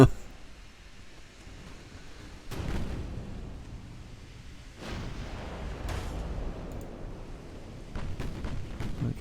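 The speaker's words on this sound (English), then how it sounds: "you guys are still firing at this ship" Naval gunfire in the warship game Ultimate Admiral: Dreadnoughts, heard as a few heavy, booming blasts spaced seconds apart, each followed by a low, rolling rumble.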